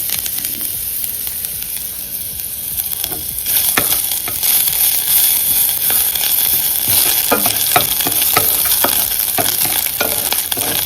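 Lentils and grated ginger sizzle steadily in a hot pan, a constant frying hiss with occasional scraping and stirring clatter from a utensil, close and loud.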